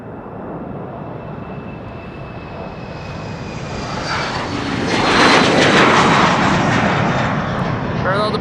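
A Boeing 787 Dreamliner bound for Nairobi roars down the runway at Amsterdam Schiphol, a steady broadband engine rush with a thin whining tone that builds to a louder, closer peak toward the end.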